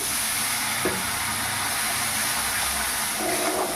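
Banana flower and prawn curry sizzles steadily in a pan, a constant close hiss of frying with faint stirring, heard on its own.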